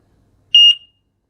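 Orca smoke alarm test beep: a single short, piercing electronic tone, loud and close, followed by silence.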